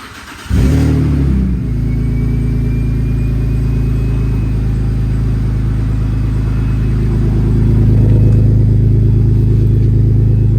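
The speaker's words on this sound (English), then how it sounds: "we're gonna start it up, see what it sounds like, with and without the muffler" A BMW 325Ci E46 with a new Y-pipe exhaust cranks and fires up, settling into a loud, steady idle rumble close by, with a slight swell in engine note near the end.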